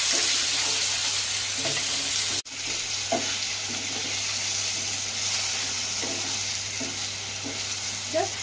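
Salt-and-turmeric-coated paneer pieces fry lightly in hot oil, a steady close sizzle with occasional stirring scrapes and a brief break near the start.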